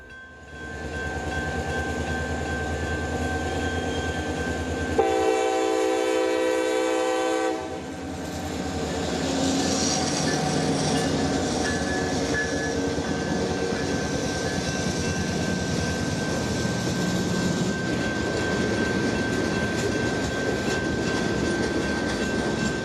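A CSX freight train passes on a Central Florida main line, a steady loud rumble and rolling clatter lasting throughout, with a brief horn blast early on and a constant high whine.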